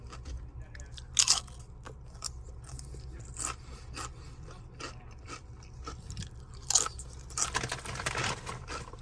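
Salty packaged snacks crunched and chewed close up, with irregular bites and crackling scrapes over a steady low hum, no talking.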